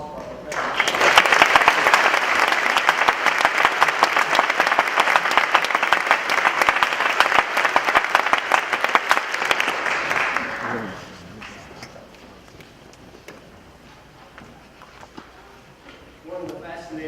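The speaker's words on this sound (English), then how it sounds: "How about a round of applause for our professor?" A middle school honor band concert audience gives a loud round of applause for the band's professor, sustained for about ten seconds before fading to quiet hall noise, with a brief scattered burst near the end.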